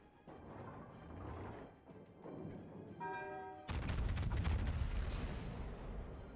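Heavy artillery cannon shots in a tank video game: a tonal whine builds, then a loud, close boom breaks out and rumbles on through the end, with no talk over it.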